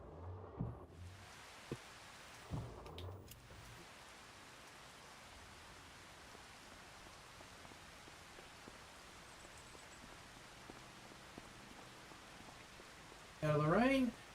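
Rain falls steadily in the farming game Farming Simulator 25, a faint, even hiss that runs throughout, with a couple of brief soft bumps early on and a sharper, louder burst of sound just before the end.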